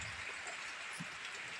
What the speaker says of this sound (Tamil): மழை விடுற மாதிரி தெரியல, ஆனால் நனைஞ்சிக்கிட்டா தான் போய் பிடிச்சிட்டு வரணும்.